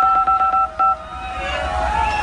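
Telephone keypad dialing tones from a handheld device being tested, five short beeps in quick succession, then a sustained warbling electronic tone, loud and close.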